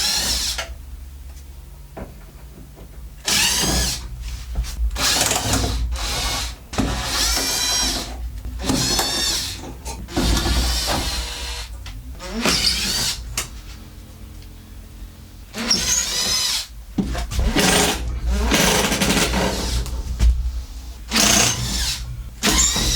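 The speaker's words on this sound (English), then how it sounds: "I'm going to start removing the screws along the back and then along the sides" Power driver backing screws out of a DIY motorhome's frame in repeated short bursts of whirring, close and loud, separated by brief pauses.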